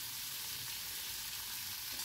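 Vegetable scraps, bottle gourd peel and cauliflower stalks, sizzle in hot oil in a pan with a steady, even hiss, stirred now and then, close and continuous with no voices.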